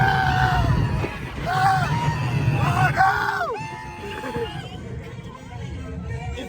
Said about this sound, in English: It's better when you scream.